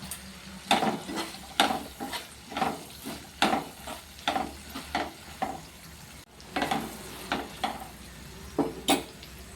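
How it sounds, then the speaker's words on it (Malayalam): Green chillies sauté in a pan with salt and turmeric, a soft steady sizzle punctuated by regular scraping strokes of a spoon as they are stirred, nearby and moderately quiet. "മഞ്ഞൾപ്പൊടിയും ഉപ്പും ചേർത്ത് മുളക് നല്ലതുപോലെ വഴറ്റിയെടുത്തിട്ടുണ്ട്."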